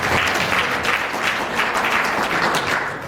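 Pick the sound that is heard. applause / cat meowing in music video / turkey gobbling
applause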